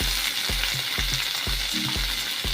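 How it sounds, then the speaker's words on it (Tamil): Chopped broad beans are added to onions frying in a pan, giving a loud, steady sizzle throughout with soft repeated knocks of stirring. "இப்போ நம்ம கட் பண்ணி வச்சுருக்கோம் அவரைக்காய் எடுத்து போட்டுருவோம்"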